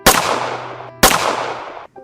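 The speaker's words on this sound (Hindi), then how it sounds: "चारों ने एक साथ गोली चलाई। दन दना दन गोली चली।" Two loud gunshots a second apart, each a sharp broadband crack with a decaying tail, fired in an animated children's story about a lion and a shepherd, close and alone with no talk.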